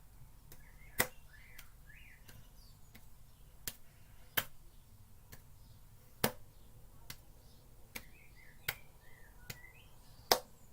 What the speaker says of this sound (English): I'll clap for a minute, then I'm sitting down again.